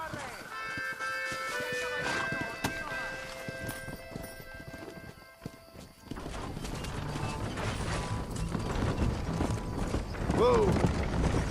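In Red Dead Redemption, a horse pulling a wagon makes steady clip-clop hoofbeats with creaking wheels through the second half. Voices talk and music plays over it, and a horse whinnies briefly near the end.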